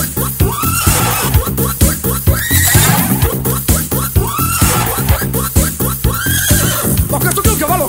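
A horse neighs and whinnies repeatedly, loud and close, over an energetic backing track with a steady beat. Hoof clip-clop sounds are woven through the music.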